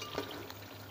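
Moong dal badiyan frying in hot oil in a home kitchen, a steady soft sizzle and crackle running through the whole second, with a brief stir near the start.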